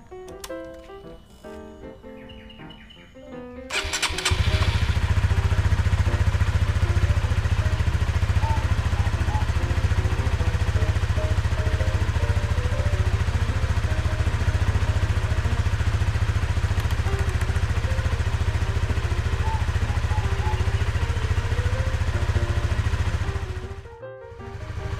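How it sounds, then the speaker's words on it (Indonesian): A Honda Sonic 150R motorcycle starts up close by after some clattering, then settles into a steady, loud idle as it warms up and finally cuts off. "Oke, langsung aja kita panasi motornya ya."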